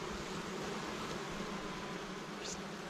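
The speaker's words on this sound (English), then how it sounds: "look how many bees are still left just hanging on" A honey bee swarm buzzes continuously as a dense, steady hum of tens of thousands of bees clinging near a hive after the combs were moved, close and unbroken with no talking.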